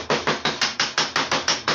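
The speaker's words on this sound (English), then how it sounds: "So I'm just going to take a board and a hammer and just kind of work around them a little bit." A hammer taps tin-snipped sheet metal pieces against a wooden board for a simple BB target: about nine sharp, evenly spaced metallic strikes, close and loud, with no voices.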